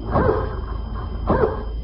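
Dog in an old-time radio show gives two short, close barks about a second apart, slightly muffled by narrow, vintage-sounding broadcast audio.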